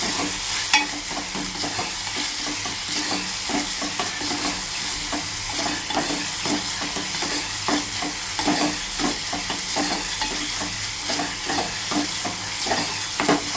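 Chopped onion and tomato sauté in hot oil for a prawn dish, a steady close sizzle under repeated scraping strokes of a spoon stirring the pan.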